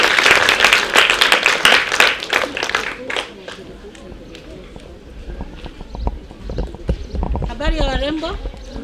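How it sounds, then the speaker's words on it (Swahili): Audience applause welcoming Madam Rosemary at a reproductive health sensitization session for pre-teens, a burst of clapping loud at first then thinning out, with voices talking over and after it. "Tumpigie makofi Madam Rosemary."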